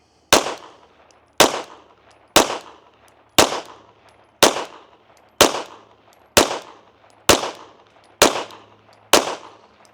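A Beretta pistol firing Steel Valley Casting reloaded cast bullets on a range, ten sharp loud shots spaced about one second apart, each with a short decaying echo, no voices.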